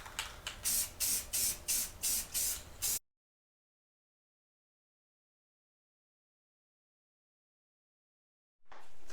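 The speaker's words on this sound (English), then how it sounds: "I'm gonna go ahead and do 3 coats of clear. I got satin, so it's not gonna be glossy." Satin clear coat is sprayed onto a wheel rim in about seven short, loud, evenly spaced hissing bursts. A long silence follows, then one more spray starts at the very end.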